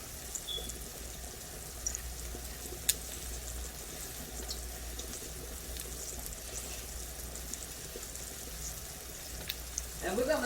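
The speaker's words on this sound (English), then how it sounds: "while that's frying" Pork chops sizzle in a pan as part of a Southern smothered pork chop dish, a steady, fairly quiet crackle of frying that runs unbroken throughout, with a slight rise in clatter near the end.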